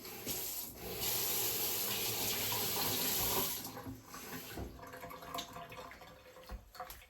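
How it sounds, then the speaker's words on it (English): Cold water runs from a kitchen tap to mix with cornstarch for a paste, a steady close splashing stream for about three seconds that then slows into uneven trickles and drips, with no talking. "So I added just a little bit of cold water to the cornstarch"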